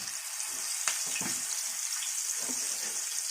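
Fish frying in hot oil, a steady loud sizzle and crackle that runs unbroken, with a few sharper spits and pops rising out of it, close up and with no talking.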